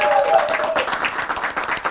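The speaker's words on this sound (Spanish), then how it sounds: "Un aplauso" A crowd breaks into applause, steady clapping filling the space for a couple of seconds with a voice briefly audible at the start.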